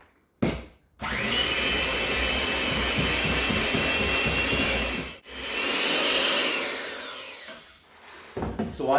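Electric mixer whirring through brownie batter in a bowl, a loud steady motor drone that starts abruptly, pauses briefly midway, resumes, then winds down with a few clatters at the end.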